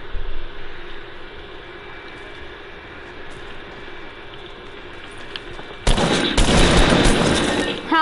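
Gunfire in the video game Fortnite bursts in suddenly near the end, a loud rapid volley breaking into a quieter stretch of low ambient hum and distant noise.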